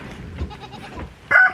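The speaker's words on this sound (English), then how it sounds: "Goats out!" Goats bleat inside a duck coop, a loud close cry bursting out near the end after a stretch of quieter shuffling and rustling.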